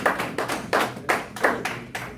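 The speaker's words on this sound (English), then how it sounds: "If they gonna clap on that, you can clap on that." A crowd claps in about seven bursts that rise and fall in a rough rhythm, close and fairly loud, with no speech over it.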